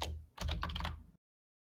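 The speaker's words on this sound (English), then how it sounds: "someone's typing very loudly" Rapid, loud clacking of keys on a computer keyboard, a close flurry of keystrokes that breaks off abruptly into silence.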